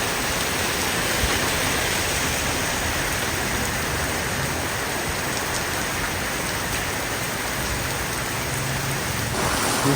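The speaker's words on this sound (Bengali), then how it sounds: "বৃষ্টি কমার কোনো নামই নাই বৃষ্টি বেড়েই যাচ্ছে" Heavy rain pours down during a downpour in Dhaka, a dense, even hiss of drops striking surfaces that continues loudly and without a break from start to finish.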